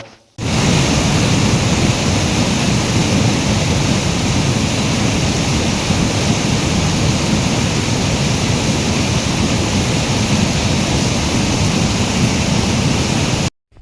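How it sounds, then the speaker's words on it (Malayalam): Irappanpara waterfall at Thamarakulam in Alappuzha pours in a steady, loud, broadband roar of rushing water that holds unchanged from start to finish, close by and with no voices. "നമ്മുടെ തൊട്ടടുത്ത് തന്നെയുള്ള മനോഹരമായ ഒരു വെള്ളച്ചാട്ടത്തിൻ്റെ കാഴ്ചകൾ കണ്ടാലോ"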